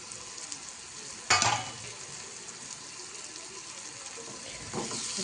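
Spicy prawn curry with chopped coriander stirred in a pan, a low steady simmering hiss with one sharp scrape or clatter early on and a softer stir near the end, close and without voices.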